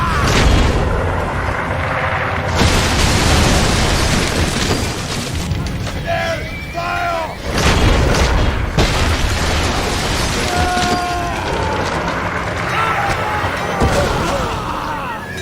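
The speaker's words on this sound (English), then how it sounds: "The enemy catapults are wrecking ours!" Catapult projectiles slam and burst repeatedly during a siege battle in the medieval strategy game Ancestors Legacy, loud booms and crashes layered over battle din, with voices shouting at times.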